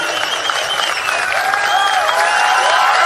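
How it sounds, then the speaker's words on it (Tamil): A large crowd at a Naam Tamilar Katchi political event led by Seeman applauds and cheers loudly and steadily, a dense sustained roar of clapping and voices with no break. "அவரை சீமான் அறிமுகம் செய்த போது ஏராளமானோர் நிகழ்ச்சியுடன் ஆரவாரம் செய்தனர்."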